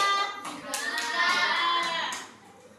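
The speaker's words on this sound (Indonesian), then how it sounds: "Beri tepuk tangan pada kelompok 2." A primary-school classroom bursts into applause for a presenting student group, with many small hands clapping in a dense, lively patter that fades out near the end while children's voices mingle faintly underneath.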